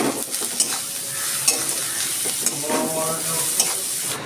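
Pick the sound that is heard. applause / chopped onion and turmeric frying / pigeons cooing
chopped onion and turmeric frying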